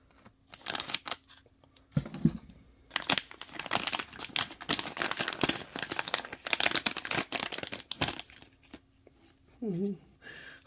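Scissors snip and crinkle through a plastic blind bag from a Disney Doorables surprise doll set, giving a run of close, rustly cuts and crumples with brief pauses, and someone talks over part of it.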